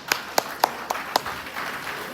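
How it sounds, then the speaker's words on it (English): In a freshman engineering induction session, five crisp claps sound in a loose rhythm, then a softer spatter of clapping fades out in the room. "Give him a big clap"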